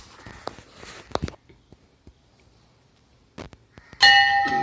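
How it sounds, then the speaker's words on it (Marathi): Temple bell at a Shiva temple with a large stone Nandi, struck twice with bright metallic clangs, the second ring sustaining as a loud, near ringing tone at the end after quieter footsteps and taps. "तर घंटी वाजवी, आपण जरा पाहूया घंटी वाजून."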